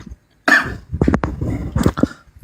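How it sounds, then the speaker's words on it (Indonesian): A single sharp cough bursts out close by, followed by a few softer throat noises and breathy sounds of someone snacking, with no talking. "Lagi ngemil, batuk,"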